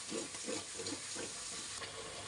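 Red chili powder, misal masala and black spice powder fry in a pan for misal pav, giving a soft, steady sizzle with faint rhythmic stirring scrapes at a low level, with no talking.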